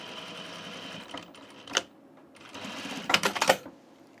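Sewing machine top-stitching a seam on an unlined auburn corduroy blazer, running in short bursts: a brief burst near the middle and a longer rattling run of several quick surges toward the end, close and fairly loud.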